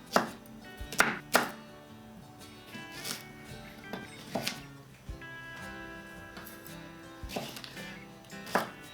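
A knife chops vegetables such as parsnip, Swedish turnip and carrots on a cutting board in a kitchen, giving a series of sharp, irregular knocks and thuds, close and fairly clear.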